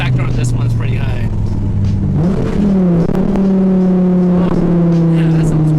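A sports car engine revs and accelerates, its tone climbing steadily and loud from inside the car, with people talking over it.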